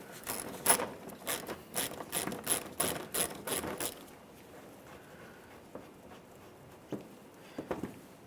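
A ratchet fitted with a 10mm socket loosens bumper hardware on a 2007-2013 Acura MDX, giving a close, fast run of sharp clicking bursts that then fade to near silence with a few isolated ticks.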